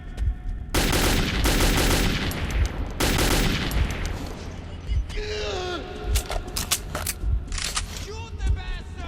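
Loud bursts of automatic gunfire and rapid shots from the video game Metro 2033, with dense firing sections broken by pauses and shouted voices in between.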